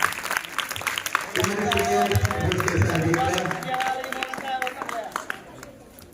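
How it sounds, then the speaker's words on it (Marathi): Schoolchildren clapping at an annual prize distribution ceremony, a broad steady round of applause from a crowd rising and fading under an announcer's voice over a loudspeaker. "जोरात टाळ्या स्लो वाजवा"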